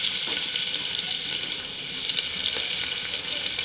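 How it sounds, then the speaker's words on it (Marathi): Onion, mustard seeds and curry leaves sizzle in hot oil, a dense continuous crackle with faint stirring ticks, close and fairly loud, no voice. "हलवून थोडं छान फ्राय होऊ द्यायचे"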